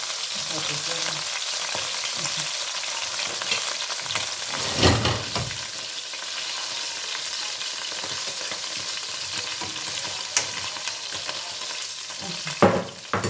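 Onion is stirred into a hot frying pan beside green beans and chicken, giving a steady, loud sizzle broken by a few scraping stirs and small thumps of utensils.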